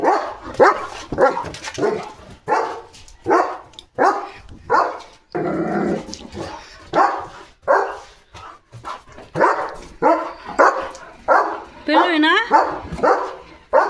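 Short yappy barks and little whimpers from a small dog recur through steady nearby talking, rising in pitch near the end.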